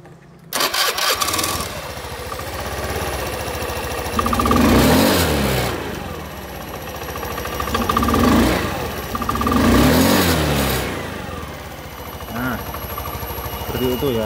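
A Honda Beat FI scooter starts up and is revved several times with the throttle, swelling into loud close bursts that fall back to idle between them, with someone talking over it.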